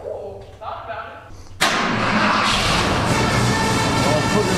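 A flooded, rusty Ford F150 pickup cranks briefly, then its engine catches and roars into a loud, steady run that continues to the end, with voices talking before it starts.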